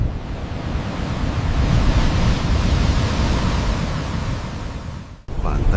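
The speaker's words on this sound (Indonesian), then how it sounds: "efek suara angin dan ombak yang masuk ke lubang karang" Wind and ocean waves surge into holes in the rocky coral coast at Pantai Sembukan, Wonogiri, making a steady, loud broadband roar of surf and gusts that breaks off briefly near the end before resuming.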